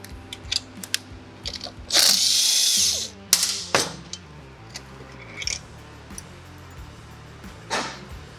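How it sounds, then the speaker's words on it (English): Ratchet wrench and 12mm socket loosening the top motor mount bolt on a Yamaha TT250 dirt bike, giving scattered close metallic clicks and short ratcheting bursts with brief pauses between them. "this is where we'll use a 12mm wrench and a 12mm socket"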